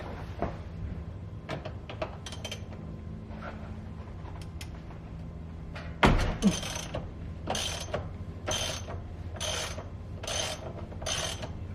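Ratchet working a 19mm nut loose on an Infiniti G37 steering wheel: a heavy crack as the nut breaks free, followed by a run of quick repeated ratcheting clicks, close and loud over a low hum.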